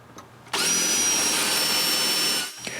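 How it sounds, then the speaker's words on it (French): A power drill bores small holes in a wooden shutter, a loud steady whine starting abruptly after a quiet moment, holding for about two seconds, then winding down. "je fais des petits trous dans le bois"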